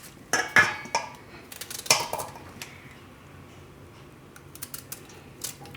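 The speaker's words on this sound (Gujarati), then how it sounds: "તો બધું મિક્સ આ રીતે સુધારી લે હું." A knife chops vegetables and ginger for Gujarati mixed pickle, with a few sharp clicks and taps on a board at the start, then sparse lighter knocks and scrapes trailing off, close by with no voices.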